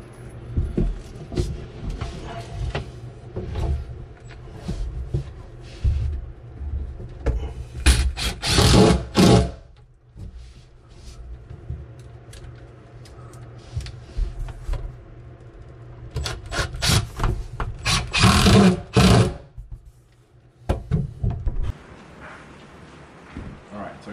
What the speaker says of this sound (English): So I'm just going to screw it on through the piece that was already there like it is already.